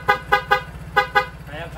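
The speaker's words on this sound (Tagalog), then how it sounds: "Kaya pa rin yung bumusina ng maayos." A motorcycle horn honks five times in short beeps, two quick pairs and a single, over a steady low engine idle.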